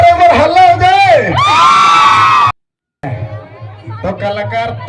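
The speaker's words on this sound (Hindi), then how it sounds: "जोरदार एक बार हल्ला हो जाए" A crowd at a village Jatra fair in Jharkhand yells, whoops and cheers loudly, breaks off into a brief silence, then carries on in lively overlapping chatter and shouts.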